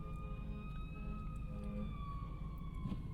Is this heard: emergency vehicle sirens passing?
yes